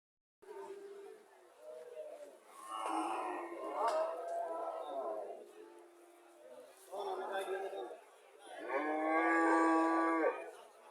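A Sahiwal breed heifer calf at a cattle market in Comilla moos several times, loud and close, with long drawn-out calls between quieter stretches and faint crowd chatter behind.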